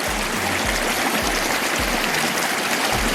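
A shallow creek near Baker, Nevada flows in a steady, close broadband rush, with faint rhythmic low thumps underneath and no talking.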